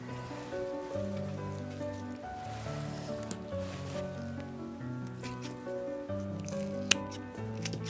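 Scissors snip through ranunculus flower stems, making soft, repeated cuts beneath steady background music.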